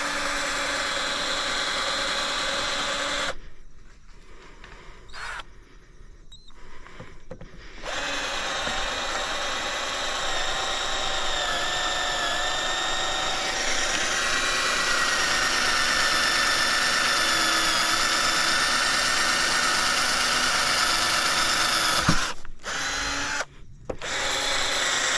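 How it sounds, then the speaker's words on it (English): A Hyper Tough 12V cordless drill bores holes through a wooden 2x4, a steady high motor whine that cuts out briefly twice between holes, then runs on loud and close before a few short stops at the end. "Just going to drill a couple of holes through it"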